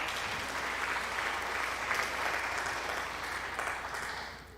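Applause sound effect played during a Shadow of the Colossus speedrun stream, a steady wash of many hands clapping, sustained and moderately loud before cutting off abruptly.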